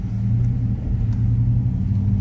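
Heavy low rumble of a truck riding along the road, a steady close engine and road drone with no talking.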